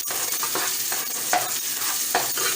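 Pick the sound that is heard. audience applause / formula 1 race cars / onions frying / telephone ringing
onions frying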